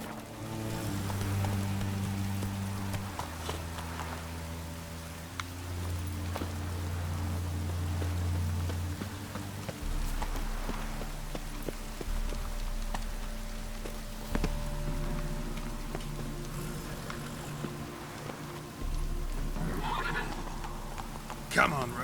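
The horse in The Witcher 3 at a gallop, with rhythmic hoofbeats and occasional neighs under sustained game music, rain and low in-game sounds across about twenty seconds.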